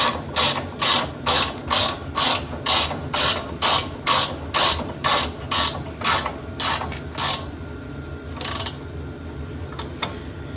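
A Snap-on ratchet spanner tightening a nut on a Bolens Ride-a-matic attachment lift gives a close, loud series of rapid clicking strokes in an even rhythm, about a dozen bursts, then slows to a few scattered clicks.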